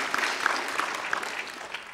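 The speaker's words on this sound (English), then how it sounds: "Give him an absolutely massive round of applause." Audience applause fills a Liverpool comic con hall, a dense steady patter of many hands with a few sharper claps standing out, moderately loud and continuous for the full two seconds with no talk over it.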